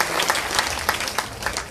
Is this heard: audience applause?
yes